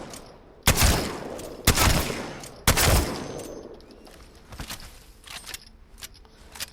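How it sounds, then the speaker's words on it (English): Three loud, sharp shotgun blasts fire about a second apart in a video game, each with a long reverberant tail, followed by quieter clicks and handling sounds as the weapon is cycled. "it's the best way to warm up with a shotgun."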